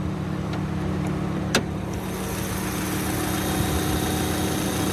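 2004 Subaru Outback Legacy Limited sedan engine idling, with a steady low hum and faint vibration, a couple of short clicks early on, and the car recorded from nearby without talk.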